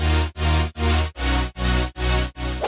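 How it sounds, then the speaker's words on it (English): Basic LFO wobble synth in an electronic track, pulsing at a fixed rate in about seven even bass-heavy swells separated by brief dips, loud and alone. "first it starts off as this basic LFO wobbly sound at a static rate"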